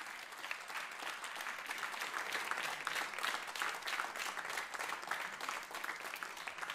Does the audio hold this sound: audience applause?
yes